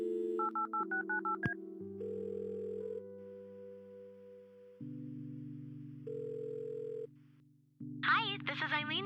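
A telephone in the Kathy Rain video game is dialed, with a quick run of clean keypad tones followed by long steady ringback and dial tones, ending as a voice comes on the line.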